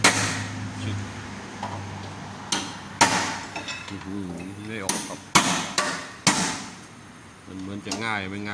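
Heavy sledgehammer blows land in an irregular series of sharp, loud impacts, with people talking in between the strikes.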